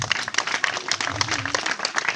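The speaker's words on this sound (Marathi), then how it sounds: "टाळ्या वाजवा, टाळ्याला आपल्याला काहीही प्रॉब्लेम नाही आहे." An audience claps at a Satyanarayan Mahapuja cultural program in Ranewadi, Talgaon, Maharashtra, with a burst of sharp, uneven hand claps close by and a few voices murmuring underneath.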